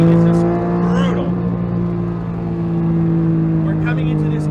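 A 2011 Porsche GT3 RS sounds its engine in strong steady harmonic tones through a corner at around 100, the pitch dipping and recovering as it is driven hard, with talk from inside the car over the engine note.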